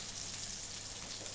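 Meatballs fry in hot oil, giving a steady, dense sizzle with fine crackling spits throughout, close and fairly quiet, with no voices.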